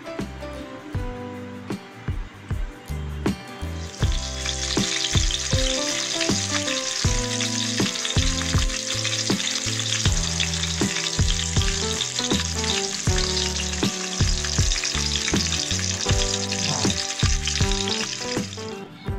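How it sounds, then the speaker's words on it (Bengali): Olive barb fish fries in three spoons of mustard oil in a wok, a loud, steady close sizzle that swells after a few seconds and holds without speech. "মাছটা এবার আমি ভেজে নিচ্ছি। কড়াইতে দিয়েছি"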